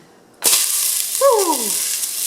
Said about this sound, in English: I'm adding just a little of olive oil. I've already heated the pan.